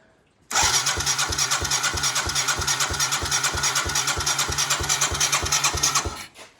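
A Yamaha 225DX Tri-Moto three-wheeler engine cranks and catches, then idles with a steady, rapid putter close by, running loud and even for several seconds before cutting off abruptly.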